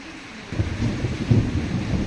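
Thunder rumbles low and heavy through a downpour in a village rainstorm, a single rolling peak of thunder over steady rain.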